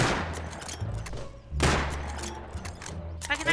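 AK rifle fire in the survival game Rust, bursts of sharp, booming shots with a thudding low end, one heavy volley mid-way and quicker rapid shots near the end.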